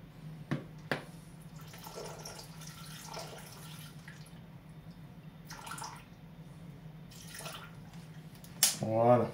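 Water poured into a Thermomix TM7 mixing bowl during tiramisu prep, a quiet trickle and splash near the end after soft clicks and handling noises, close by over a low kitchen hum.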